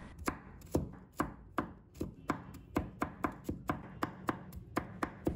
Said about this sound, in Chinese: 再切成末。